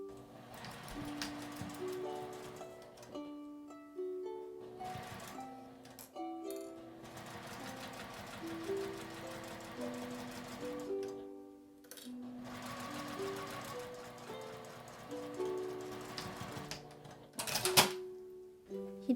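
A domestic sewing machine stitches an IC card pouch made from a single cut cloth, in several quiet, close, steady rhythmic runs separated by short pauses, with a sharp clack near the end.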